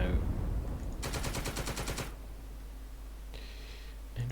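Video game gunfire: a rapid burst of automatic fire lasts about a second, then a short, fainter rattle follows a moment later, both set against a low background hum.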